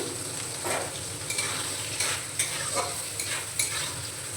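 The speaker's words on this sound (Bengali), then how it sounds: "ছোলার ডালটা ভেজে নেব" Chana dal fries in oil in a pan, giving a steady close sizzle broken by repeated scraping stirs of a spatula, with no voices.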